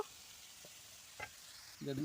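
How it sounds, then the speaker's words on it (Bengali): Chilies and radish frying in a pan produce a soft, steady hiss, quiet and continuous, broken by a few light clicks and a brief louder clatter near the end. "এখানে আছে মুলো ভাজি আর হচ্ছে লঙ্কা ভাজি তো ভাজা হয়ে গেছে"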